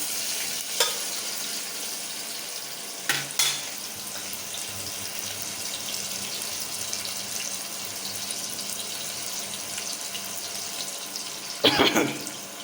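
Onions sautéing in a pan for beef biryani, a steady soft sizzle running throughout with a few brief stirring scrapes and clatters, close and moderately quiet, no talking.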